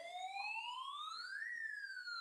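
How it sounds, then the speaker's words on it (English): A rising and falling electronic siren sound effect, loud and steady, with clear harmonic wails sweeping up then down, heard alone without talk. "It's time to sound that siren."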